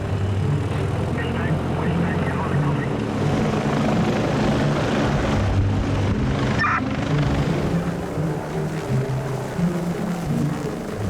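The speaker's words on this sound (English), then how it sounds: "Once the helicopter lands, Jonathan and the Westpac Rescue pilot discu" A helicopter's steady rotor and engine roar fills the scene, loud and continuous, with a brief burst of noise partway through.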